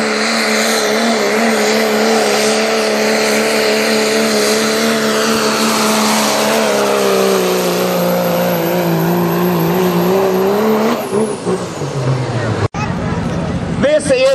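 Turbocharged 2.6 diesel tractor engine roaring under load at a tractor pull, loud and sustained with a wavering pitch and a rising turbo whine, then abruptly cutting off; crowd noise and an announcer are heard underneath.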